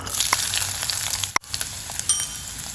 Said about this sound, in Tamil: நம்ம இந்த வெங்காயத்தை நல்லா வதக்கி எடுத்துக்கலாம்